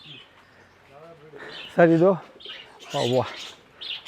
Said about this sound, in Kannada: ಆಲ್ಬಿನೋ ಕಾಕ್ಟೈಲು, ಇದು ಕಾಕ್ಟೈಲ್ ಫಾನು ಗ್ರೇ ಪರ್ಲು, ಇದ್ರ ಜೊತೆ ಇದು ಆಫ್ರಿಕನ್ ಬಜರಿ ಸರ್